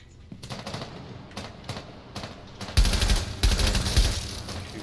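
Gunfire in the Rainbow Six Siege video game: rapid automatic bursts, at first moderately distant and then louder and closer, fire in quick repeated volleys with no talking.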